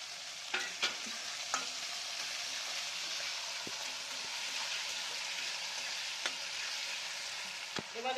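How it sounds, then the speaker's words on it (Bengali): Green peas fry in a wok with onion and tomato, a constant hissing sizzle broken by sharp scrapes and knocks of a spatula stirring at irregular moments. "কড়াইশুঁটিগুলো দিয়ে দিলাম।"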